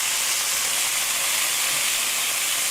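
Chicken thighs frying in a pan for smothered chicken, a steady, dense hiss of sizzling oil that holds at an even, fairly loud level throughout with no pauses and no talk.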